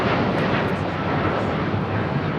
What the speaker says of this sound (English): This is United Airlines Flight 32 taking off to Tokyo Narita on the 787-9 Dreamliner.